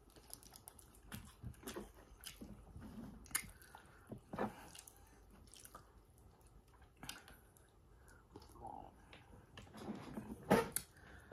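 Close, wet chewing and slurping of Vietnamese pho noodle soup eaten with chopsticks, with soft irregular mouth sounds, squishy bites and a sharper slurp near the end, with no talking.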